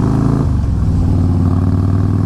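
A Harley-Davidson Fat Boy S motorcycle engine is revved hard close by, its loud exhaust roaring and then settling into a deep, throbbing idle rumble with no talking.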